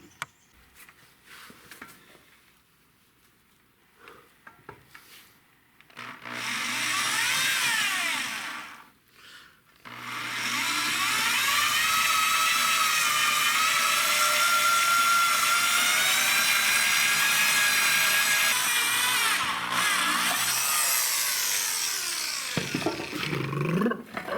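A power drill fitted with ordinary bits, lubricated with oil, bores steel for a giant robot build, giving a loud sustained whine in two long bursts separated by a brief pause, with no talking.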